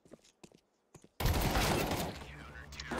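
Gunfire in Counter-Strike 2 landing a headshot, a sudden loud burst of shots with a ringing, decaying tail, after a few quiet clicks and brief sounds.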